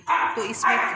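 Dogs bark in short bursts close by, loud over and between a woman's speech in a home kitchen while a cauliflower soup is cooked.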